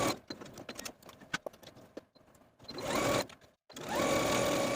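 A sewing machine stitches a seam in short bursts, its needle tapping fast and close, with pauses and a couple of longer steady runs toward the end.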